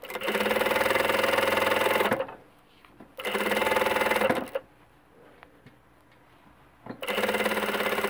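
An electric sewing machine stitching topstitching on fabric, with three loud steady bursts of rapid whirring stitches separated by quiet pauses with faint handling clicks.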